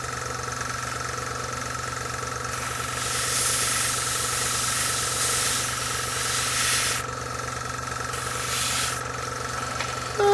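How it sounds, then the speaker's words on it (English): Airbrush spraying paint for tank camouflage, a steady close hiss that swells louder for several seconds in the middle and again near the end over a constant mechanical hum from the compressor. "Clean your expensive airbrush out thoroughly, so we don't want it to cause trouble later."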